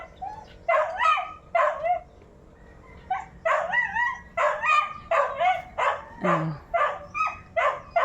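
Several dogs bark repeatedly in quick, uneven bursts with higher yips mixed in, fairly close and loud, with no talking.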